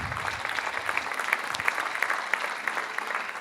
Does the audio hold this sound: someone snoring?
no